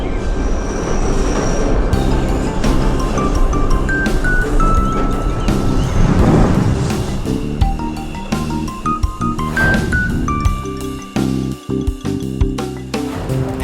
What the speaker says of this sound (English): I love watching these trains go by